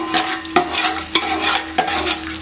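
Cinnamon sticks, cardamom, cloves, star anise and bay leaves fry in ghee for mutton dum biryani, a steady close sizzle broken by a few sharp scrapes of a stirring spoon against the pan.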